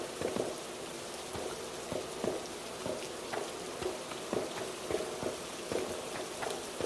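Steady rain falling in the Genocide Dolphins video game, a dense hiss with scattered drop ticks spread evenly throughout, moderately quiet with no talk.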